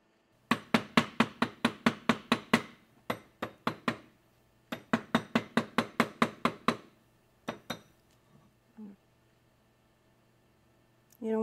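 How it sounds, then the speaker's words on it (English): Rapid, rhythmic taps of a nylon hammer rounding a ring on a steel mandrel, in quick bursts of evenly spaced light strikes with short pauses between, close and clear. "You want to use a steel mandrel when rounding out, using light pressure with a nylon hammer."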